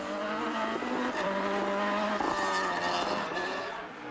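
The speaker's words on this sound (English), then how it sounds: "also for Frank Kelly, who spun his Escort a number of times, including this one on stage 1." A Ford Escort rally car engine roars at high revs while it spins, tires squealing and skidding across loose ground on a rally stage in Mayo, a continuous noisy blur without voices.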